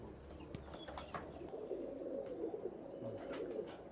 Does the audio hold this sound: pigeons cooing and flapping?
yes